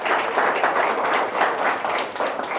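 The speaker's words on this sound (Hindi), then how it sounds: "तो आप तालियां बजाएं मेरे साथ, मैं चुटकी बजाऊंगा, आप भी बजाएं" Audience in an auditorium clapping in rhythm along with finger snaps at a Sufi music event, a dense continuous patter of many hands with a regular beat.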